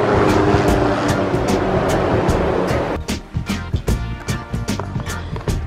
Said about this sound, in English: the Department of Conservation are up here with a helicopter